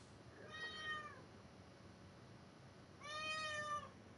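A pet cat meows twice, drawn-out and fairly close, wanting to be fed, with a long quiet gap between the two calls over low background hum.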